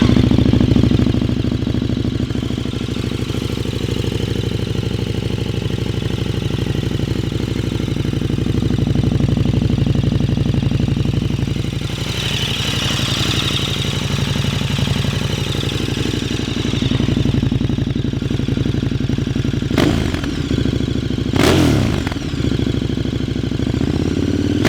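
A 2015 KTM Superduke 1290 motorcycle engine runs close by with a steady idle, holding an even rumble throughout, with a couple of brief sharper bursts near the end.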